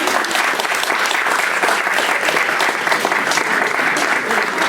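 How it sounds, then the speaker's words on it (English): Wedding guests applaud together at a reception, a steady, dense clapping that holds at full strength for about five seconds with a faint crowd murmur underneath. "give them a round of applause"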